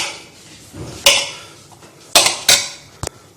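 Metal utensil scraping and clanking against a pot while mixing chickpeas and potato, a few sharp knocks spaced irregularly over quiet background.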